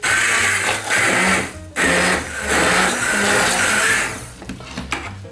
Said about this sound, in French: Je prends le mixeur à pied et puis on va mixer notre soupe.